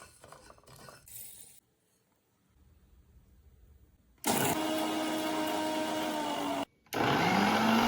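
A spice grinder powders roasted cloves, cumin, coriander, cinnamon and black pepper, starting with clattering jar handling and a quiet pause before the motor roars loudly, stops for a moment, then whirs again.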